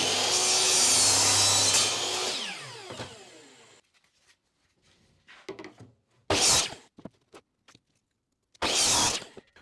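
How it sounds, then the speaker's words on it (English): MDF cabinet legs are cut to length with a power saw: a loud blade whine through the board for about three seconds, winding down, then scattered knocks and two short bursts of cutting later on. "I'll cut them to length first of all."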